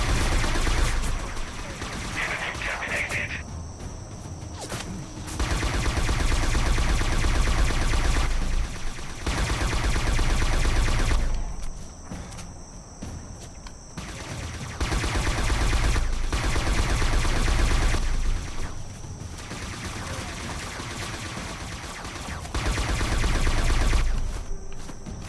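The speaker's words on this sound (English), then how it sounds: "Man, the kickback on that gun's a real bastard." Automatic gunfire in the video game Scourge Outbreak comes in long loud sustained bursts separated by short pauses, with someone talking over the shooting.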